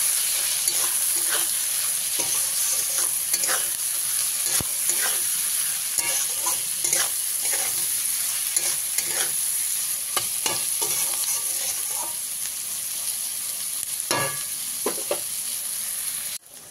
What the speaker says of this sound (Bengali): পেঁয়াজটা আমি এইভাবে ভালো করে লাল করে ভেজে নিয়েছি